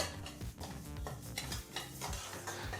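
Rice dry-roasts in a pan while being stirred, soft, uneven scraping and rustling strokes repeating close by at low volume, with faint crackle underneath.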